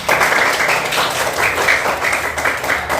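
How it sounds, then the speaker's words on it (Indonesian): A classroom of students claps together at the teacher's prompt, loud and close, with the clapping swelling and easing in rough pulses over a few seconds. "Tepuk tangan buat kita semua."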